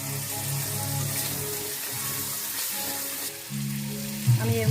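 Spice masala for a chicken curry frying in a pan, a steady close sizzle running throughout, with faint voice-like tones drifting under it and a brief louder clatter near the end.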